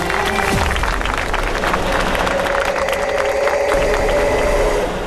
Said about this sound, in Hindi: आप लोग एक बार जोरदार तालियां तो बजाइए।